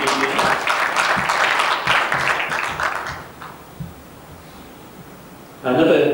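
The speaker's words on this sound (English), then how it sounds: "So can we give a round of applause to Gulf League consultants for being new members of the GBN?" Conference audience applauds new members of a benchmarking network, a dense burst of clapping for about three seconds that fades into quiet room noise before a sudden loud rustle at the end.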